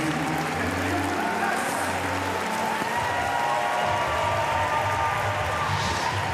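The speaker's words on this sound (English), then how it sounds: "Al-Azab, who takes the applause of the crowd here in Paris" A crowd applauds a female para powerlifter at the Paris 2024 Paralympic Games, steady clapping filling the arena, with some low rumble and a brief voice early on beneath the ovation.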